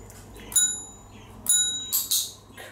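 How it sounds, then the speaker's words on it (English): A miniature poodle puppy strikes a small desk bell three times, each ring a bright, clear ding with a short metallic decay, with a quieter jingle at the end and faint background between rings. "ring the bell, ring the bell."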